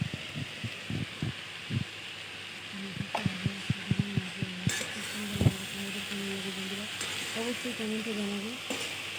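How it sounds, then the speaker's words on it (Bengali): Leafy greens (saag) frying and being stirred in a wok, a steady close sizzle broken by scraping stir strokes, with someone speaking briefly over it. "এই শাকগুলো আবার সুন্দর করে ভেজে নেব"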